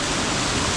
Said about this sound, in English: first tier, second tier of the waterfall, and then there's a third tier